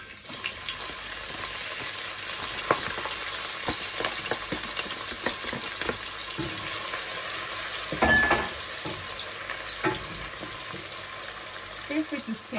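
Onions fry in hot oil in a pot for a Nigerian dodo gizzard dish, giving a steady bright sizzle with intermittent stirring scrapes and clatter, close and continuous.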